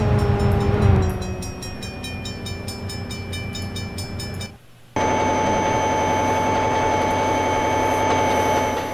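A train rolls steadily through the Trainz: A New Era railway simulator, with a continuous rumble and clatter. A sharp break near the middle cuts the sound briefly before a brighter, equally loud running tone resumes and holds.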